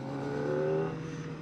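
Brief close engine note from a 2024 Kawasaki ZX-4RR as the throttle is turned, a steady buzzing rev that swells and then eases off.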